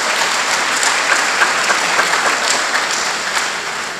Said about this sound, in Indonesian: Tepuk tangan buat kalian yang hari ini sudah ada